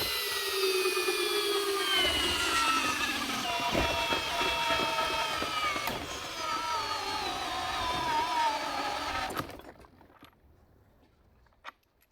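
A powerful cordless hammer drill on speed 1 drives a 5/8 by 12-inch lag screw into wood, a loud sustained motor whine that slowly drops in pitch as it labours under load, then cuts off abruptly, leaving near silence and a faint knock.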